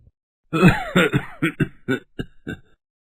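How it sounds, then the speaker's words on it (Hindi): A man coughs repeatedly in a rough, hacking fit of about eight bursts, close and loud, with no talking. "खांसने की आवाज आने लगती है"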